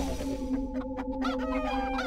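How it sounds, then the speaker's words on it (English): Repeated clucking of a chicken in the Arx Fatalis video game, a steady run of soft, quick clucks over a constant background hum. "still just clucking."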